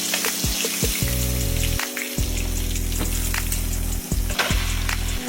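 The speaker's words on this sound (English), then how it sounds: "I'll put my splatter guard back down again so that the grease is not popping everywhere" Rainbow trout frying in hot grease in a pan, a loud, continuous sizzle with scattered sharp pops and spatters, heard close up with no talking.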